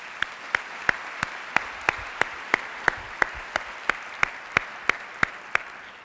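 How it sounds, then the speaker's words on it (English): A graduation ceremony audience gives a steady round of applause, with a crisp, evenly spaced clap repeating through the dense wash of hands for about six seconds. "would like to give you a round of applause for being here as well"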